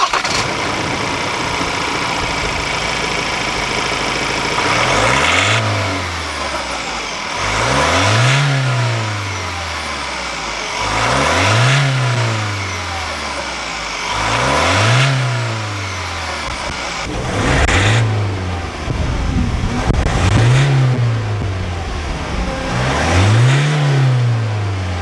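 A 2023 Ford Ranger Raptor's 2.0-litre inline-four bi-turbo diesel, paired with a ten-speed automatic, revs in repeated short bursts, roughly seven blips that each rise and fall back to a steady idle, close and loud with no talking.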